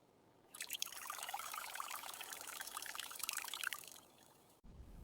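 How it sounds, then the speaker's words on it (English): Water pours slowly into a cooking pot of rice, a steady trickling splash that starts abruptly, holds for about three seconds, then tapers off before a short low thud at the end. "Now add water slowly."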